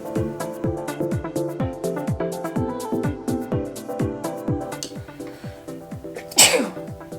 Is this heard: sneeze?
yes